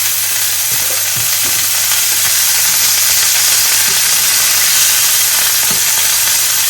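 Pork tenderloin frying in a very hot cast iron pan with oil, a loud steady sizzle and crackle that hisses on without pause, with occasional small pops and stirring sounds.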